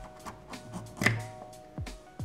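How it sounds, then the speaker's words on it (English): A simple kitchen knife scrapes and cuts away plastic edges on a 1991 Lego Cabin Cruiser, set 4011, making a few short close scraping strokes, with one sharper, louder cut near the middle and no talking. "since this is plastic, you can cut it away with a simple kitchen knife"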